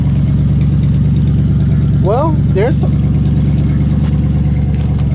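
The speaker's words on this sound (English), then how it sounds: "Let this thing idle for a little bit and warm up." A 1978 Chevy truck engine, freshly revived after being seized, idles steadily with a low, even rumble throughout, while someone talks briefly over it.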